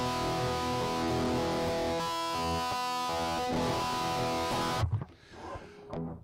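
Open chords strummed on an electric guitar through an IK Multimedia X-Drive digital distortion pedal, a thick, sustained distorted wash that rings on before cutting off abruptly near the end, leaving a faint decay.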